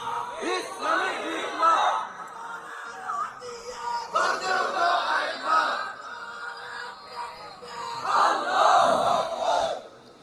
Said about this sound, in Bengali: আমাদের স্লোগান হলো নারায় তকবীর জোরে আরো জোরে